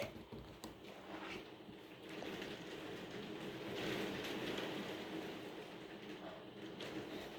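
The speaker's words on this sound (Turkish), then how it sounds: "Kötü yağmur yağıyor." Heavy rain pours down steadily in a cartoon scene, a dense continuous hiss that swells slightly midway and stays loud throughout, with no talk over it.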